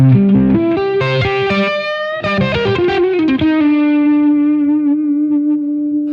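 Electric guitar plays a quick run of notes, then lets a chord ring out with a gentle wavering shimmer and light echo.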